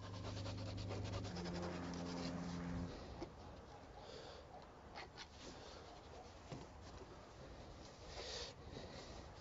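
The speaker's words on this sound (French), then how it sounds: "De nouveau, il en ponce l'extrémité et il l'enduit d'eau savonneuse" Sandpaper scrubs the end of a plastic drain pipe in quick back-and-forth rasping strokes, close and fairly faint, continuing through the whole stretch with a brief hum at the start.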